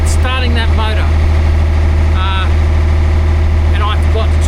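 A boat's outboard motor runs with a steady, loud low drone through the whole stretch, while people talk over it.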